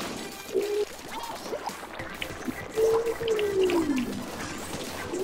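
A cat growling in the background, low drawn-out moaning tones that rise and bend, heard in two stretches over room noise with no speech.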